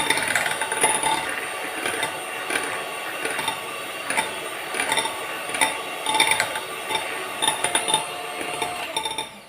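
An electric mixer beats cream for a vanilla cake after its speed is raised, giving a steady whirring drone with frequent clinks and clatters of beaters against the bowl. The sound is close and continuous, with no talking.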